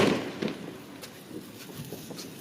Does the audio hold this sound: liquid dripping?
no